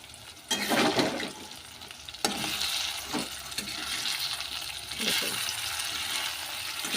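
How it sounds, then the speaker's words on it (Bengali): Spice paste loosened with hot water fries in a pan, giving a steady hissing sizzle with a few sharper bursts as it is stirred. "এবার এটা প্রায় ভাজা ভাজা হয়েছে"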